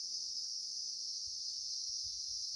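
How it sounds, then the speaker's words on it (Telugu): Crickets and other insects trill continuously in a farm garden at night, a steady high-pitched drone with faint low rustles beneath. "అక్కడంతా కీచురాలు చప్పుడు, కీటకాలు అనుకుంటా, చాలా విచిత్రమైన చప్పుడు."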